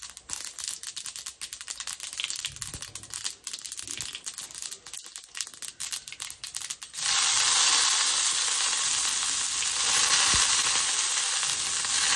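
Scattered crackles and pops give way midway to a loud, steady sizzle as dried red chillies and seasoning seeds hit hot tempering oil and keep frying.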